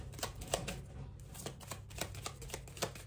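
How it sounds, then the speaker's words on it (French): Lenormand cards are shuffled close up, a quick run of soft riffling slaps and papery flicks in an uneven rhythm, quiet and with no voice. "tirer une carte de Lenormand"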